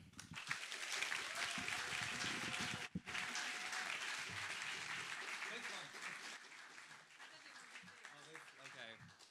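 Theater audience applauding as a comedian is welcomed on stage in Salzburg, a dense sustained clapping from a full room with a brief dropout partway, thinning toward the end as voices begin.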